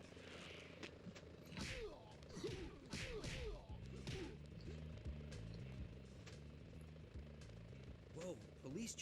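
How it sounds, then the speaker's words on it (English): Police helicopters in the Spider-Man 2000 PC video game, a looped rotor chop with whooshing swishes and thwacks, moderately loud and continuous through the stretch. "Whoa, police choppers."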